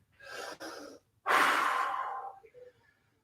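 A person breathes heavily after an exercise set, with a short sharp inhale followed by a long, loud, rasping exhale that fades away.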